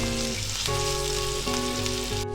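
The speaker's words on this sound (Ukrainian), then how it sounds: "З сала витоплю трохи смальця, але можна е, смажити на рослинній олії" Pork fat (salo) renders into lard in a pan with a continuous close sizzle and crackle. A low steady hum carries underneath, with no voices.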